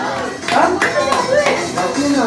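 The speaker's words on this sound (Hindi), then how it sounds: "एक बार जोरदार तालियां" Audience clapping at a live magic show, a burst of applause that swells after a moment, with a voice and faint music or ringing tones mixed in.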